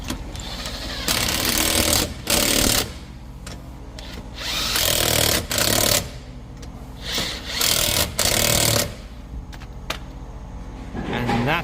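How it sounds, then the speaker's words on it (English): A power tool tightens wheel locking nuts on a car during a punctured tyre replacement, loud whirring bursts of a second or so repeating with short pauses, while people talk in the background. "These are the wheel locking nuts that are going in."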